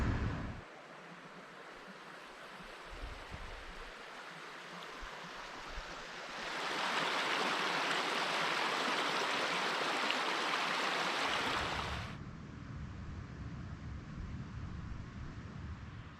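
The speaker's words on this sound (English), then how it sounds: "There's a rustle of the creek." A creek flows beside a cold-weather campsite in Oregon's Ochoco National Forest, a steady rushing wash that swells louder in the middle and then eases back, with no one talking.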